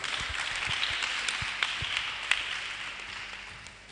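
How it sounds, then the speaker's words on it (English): Steady applause from a seated audience at a Day of the African Child roadshow panel, a moderate, even patter of clapping with a few sharper claps, fading slightly toward the end. "Okay, please clap for him."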